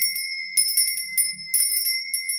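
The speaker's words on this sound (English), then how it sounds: "let's get the bell out" A small hand bell is struck several times during an incense ritual, each ring leaving a bright, sustained metallic tone that decays before the next strike. It sounds clear and close, with no talking.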